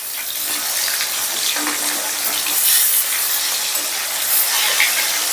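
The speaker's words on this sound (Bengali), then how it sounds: "এবারে মিডিয়াম আঁচে মাছগুলোকে আমি হালকা করে ভেজে নেব।" Pieces of katla fish fry in hot oil in a pan over medium heat, giving a steady, close, hissing sizzle throughout with no talking.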